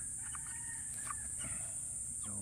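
Black Australorp and Rhode Island Red mix hens cluck softly in a free-range yard, faint and a little distant over a constant high insect drone.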